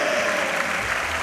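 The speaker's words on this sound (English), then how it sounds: "Excellent reaction from the crowd." Crowd applauding at a women's bouldering final in Genova, a dense, steady wash of clapping filling the whole moment.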